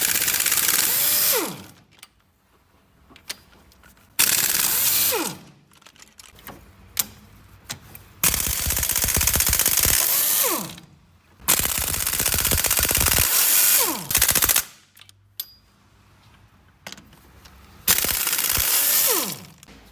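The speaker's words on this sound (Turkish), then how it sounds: "Silindir saplamalarımızı sökmeye, Kaç adet olduğuna bakalım." An air impact tool loosens the ten cylinder head studs on an oil-burning car engine during a piston ring job, firing repeated loud rattling bursts separated by brief quiet pauses.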